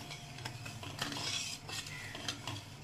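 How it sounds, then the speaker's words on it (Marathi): A spoon stirs amla juice syrup in a pan over low heat, giving a steady scrape with light metallic clinks against the pan. The sound is soft and close. "आता हे असंच मी बारीक गॅस ठेवून हलवून घेते."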